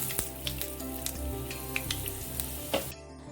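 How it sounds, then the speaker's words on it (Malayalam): Mustard seeds and fenugreek crackling in hot oil for a Kerala Onam sadya koottu curry: a dense, steady sizzle with sharp popping bursts, close by, ending suddenly. "കടുക് പൊട്ടിയതിന് ശേഷം 1 ടീസ്പൂൺ ഉലുവ ചേർക്കാം."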